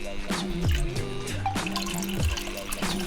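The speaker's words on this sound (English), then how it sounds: "Oh, here goes the water" Water poured into a muddy hole while panning for black sands, with close gurgling drips and splashes recurring in an uneven rhythm.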